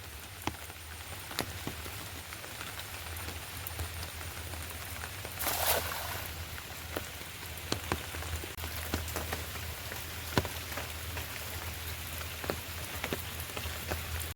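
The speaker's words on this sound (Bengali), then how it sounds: "সকাল থেকে একটানা বৃষ্টি হয়," Continuous rain falls on a farm, a steady soft hiss of drops with scattered louder patters close by, alone and unbroken throughout.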